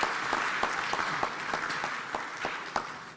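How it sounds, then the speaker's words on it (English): Conference audience at a parliamentary gathering applauds the Right Honorable Speaker; steady group clapping with a few louder, distinct claps punctuating it, moderately distant and sustained throughout. "another round of applause for the Right Honorable Speaker"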